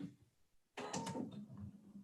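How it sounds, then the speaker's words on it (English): A sewing machine stitches darts on a dress. After near silence it starts abruptly and runs steadily with a quiet mechanical whir and clatter until the end. "Okay, I'm gonna stitch these darts."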